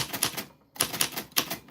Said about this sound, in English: we are typing on everybody's name on this vintage typewriter